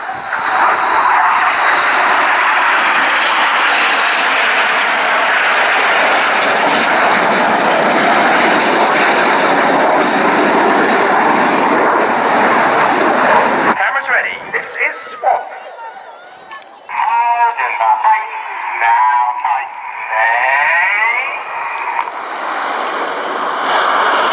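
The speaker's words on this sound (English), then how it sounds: "In from the right, this is Tornado." A Panavia Tornado jet bomber passes at the RAF Cosford air show, a loud sustained roar for about fourteen seconds that cuts off abruptly, followed by fainter crowd and announcer voices.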